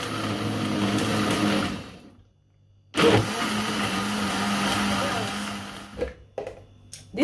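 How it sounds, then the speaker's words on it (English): Kitchen blender whirring through dates, banana and pineapple, a steady loud motor run that cuts out near two seconds, restarts at three, then stops around six with a few short pulses after. "I quickly give it so I give it a quick blend."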